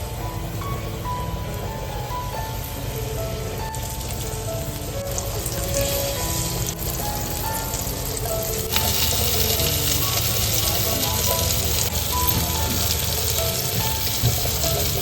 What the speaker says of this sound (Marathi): आता इकडे फ्राय करायला टाकतोय